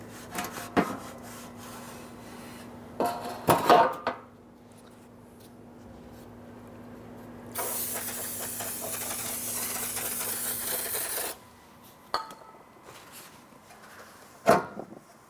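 Scrubbing and wiping leftover gasket material off a transmission oil pan from a 2005-2007 Ford Five Hundred, with scattered knocks and rubs, then a long steady hiss of spray cleaner before more brief handling sounds.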